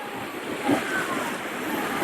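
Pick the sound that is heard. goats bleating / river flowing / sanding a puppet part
river flowing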